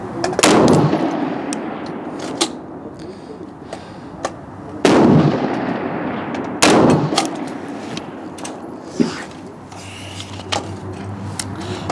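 Scoped rifle shots fired at 300 m ring out as several loud, sharp reports with long echoing tails, spaced a few seconds apart, and nobody speaks between them.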